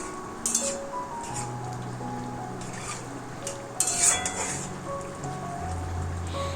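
Spice paste stirred into a Malabar spinach curry in a pan, with a soft scraping stir and light sizzling running steadily, plus a few sharper utensil scrapes near the middle.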